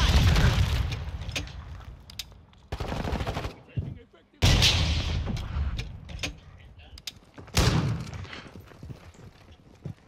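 Bursts of automatic gunfire in Call of Duty DMZ, with loud broadband volleys at the start, around the middle and near the end, separated by quieter gaps with faint mechanical clatter.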